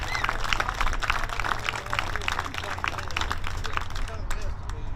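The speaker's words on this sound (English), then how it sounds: "Let's give them a round of applause." Crowd applause at a baseball ceremony honoring a coach and his family, scattered clapping and cheering spread across a gathering, with a hum and voices underneath, gradually thinning toward the end.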